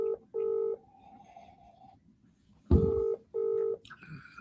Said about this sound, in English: What is up with people not answering the phone to me tonight?